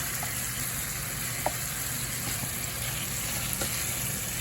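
Chicken browning in salted butter in a pan sizzles steadily and close, a continuous crackling fry with a few faint clicks and no talk.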